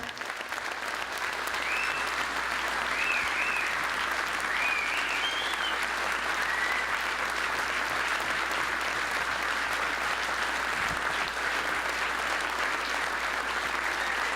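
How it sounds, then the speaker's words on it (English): A banquet hall crowd applauds at a gala dinner honouring a government minister, steady sustained clapping from many hands that stays even and loud throughout, with a few faint whistles or cheers mixed in. "let's have another round of applause for Mr. Peter Kent"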